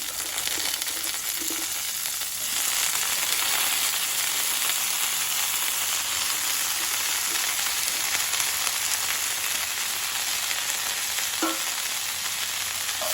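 Chopped broccoli fries with capsicum in a pan for a broccoli corn masala fry, a continuous close sizzle with occasional stirring clinks, rising slightly after the first couple of seconds, no speech.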